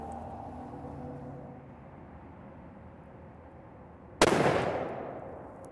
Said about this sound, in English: Let's shoot one more and see where it lands.